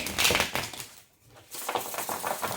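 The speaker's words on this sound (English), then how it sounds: "A couple more shuffles." A deck of tarot cards is shuffled up close, crisp papery riffles and flicks in two bursts separated by a brief quiet pause.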